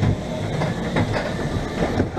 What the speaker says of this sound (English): today I'm riding a classic wooden coaster